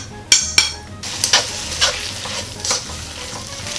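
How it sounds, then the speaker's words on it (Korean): Seasoned eggplant hits a pan of cooking oil and perilla oil with a couple of sharp metallic clanks, then sizzles steadily while being stirred, close and fairly loud. "팬에 식용유 1스푼, 들기름 1스푼을 넣고 볶아줄 겁니다"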